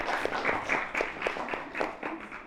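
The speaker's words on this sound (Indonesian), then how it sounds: "Tepuk tangan sekali lagi buat Kiai Taufik." An audience applauds at an Indonesian religious talk-show taping, clapping steadily and moderately loud for a couple of seconds with no voices on top.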